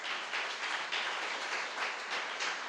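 A church congregation applauds during a Sunday evening service, a steady, soft wash of many hands clapping heard from a distance, filling the whole moment without a break.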